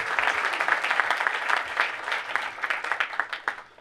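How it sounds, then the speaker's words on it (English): Audience applause during a magic and skepticism Q&A show, a lively spread of many hands clapping with distinct sharp claps standing out, gradually thinning toward the end. "Applaud for this man."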